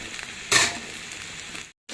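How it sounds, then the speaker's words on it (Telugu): Tomatoes and green chilies frying in oil for a kandi pappu tomato pachadi hit with a sudden loud sizzle, then settle into a steady crackling hiss that briefly cuts out near the end. "తర్వాత నెక్స్ట్ టమాటా పచ్చిమిరపకాయ వేపుతున్నాను అనమాట"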